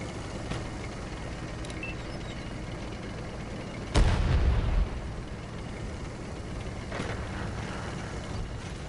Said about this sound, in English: is that our artillery?